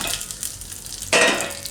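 Cumin seeds drop into hot oil on a low gas flame for tempering a spinach and yogurt chutney, setting off a sudden loud sizzle that rings on after a second of quieter kitchen background.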